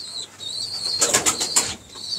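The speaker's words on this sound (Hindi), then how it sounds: "ये प्योर कसूरी कबूतर है" Pure Kasuri pigeons in a loft make a short, close flurry of wing flaps in the middle of the stretch over a soft, steady background, with little clear cooing.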